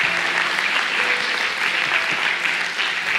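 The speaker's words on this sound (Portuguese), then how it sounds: "Aplauda o Senhor." A church congregation applauds during a Portuguese-language sermon, with steady, even clapping spread across the room at a moderate level and no voices above it.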